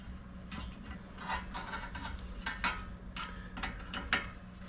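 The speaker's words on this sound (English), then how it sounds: "And then you put the screw in the side." A screw is driven into the side bracket of a Camp Chef 30 quart outdoor cooker, making faint, close mechanical clicks and scraping ticks in an irregular run against a quiet background.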